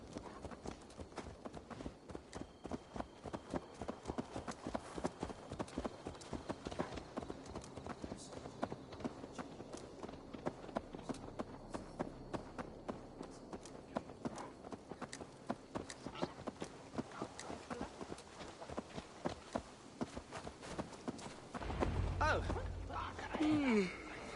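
Horse hooves in Assassin's Creed Valhalla clip-clop in a steady, rapid rhythm throughout, with a low rumble joining near the end.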